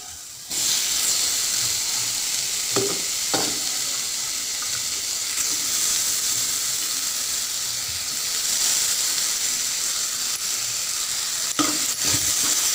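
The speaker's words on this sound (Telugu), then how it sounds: "ఇది మొత్తం అంతా కలిసేటట్టు కలుపుకోవాలి." Mushrooms being stirred into masala frying in ghee for a curry: a steady loud sizzle and steam hiss throughout, with occasional scraping strokes of a spoon against the pan.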